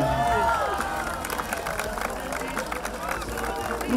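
Crowd applause and cheering fill a public square at a New Year's celebration in Puebla's zócalo right after a countdown, a steady dense roar of many hands with voices mixed in.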